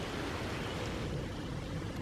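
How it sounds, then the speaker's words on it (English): Waterfall flowing in a park, heard as a steady, broad rushing wash of water that stays even in level throughout, with no talking over it. "And for once the actual waterfall's flowing."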